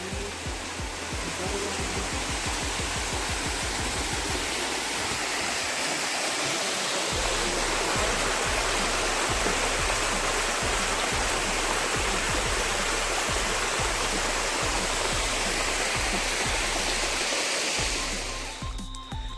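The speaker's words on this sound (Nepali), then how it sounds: "खोलामा आइसक्यो" A river stream flows steadily at night near a campsite, a dense, continuous rush of water that stays loud and close throughout, with low thumping handling noise underneath and no talk.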